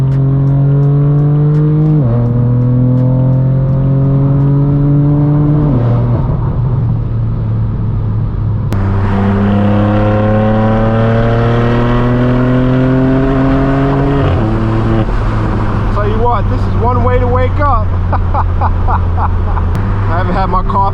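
Straight-piped BMW M4 F82 roars loudly while driving, climbing through repeated rising gear pulls with drops at each shift, crackling near the end; the exhaust dominates throughout.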